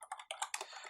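Quick run of computer keyboard keystrokes, close and fairly soft, with several clicks tapped in a brisk, uneven rhythm and no voice.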